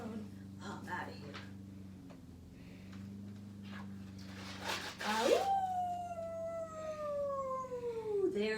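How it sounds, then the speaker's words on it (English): A coyote howls in a dry, sandy desert at sunset, one long rising then slowly falling wail that follows a stretch of talking and other background sounds. "there's a coyote's howl that tells me the hot sun is about to set in"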